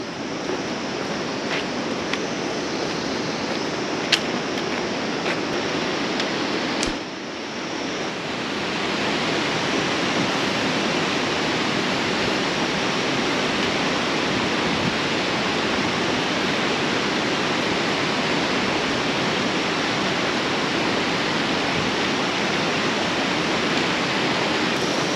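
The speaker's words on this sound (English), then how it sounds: "But there's a waterfall." A waterfall along the Annapurna Circuit trek roars as a steady, broad rushing wash, constant and fairly close, with no voices over it.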